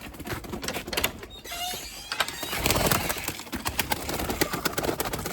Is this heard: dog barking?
no